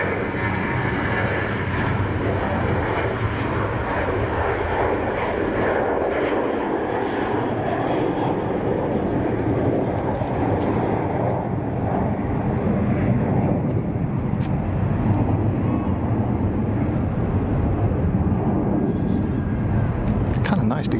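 Airbus airliner taking off at Zurich Kloten Airport, a loud sustained jet engine roar that holds steady and broad, with a person talking over it.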